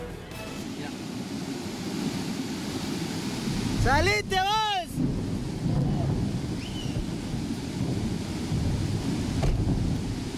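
Rushing water of a swollen river roars loud and continuous throughout, a broad turbulent wash under brief shouting from a man partway through.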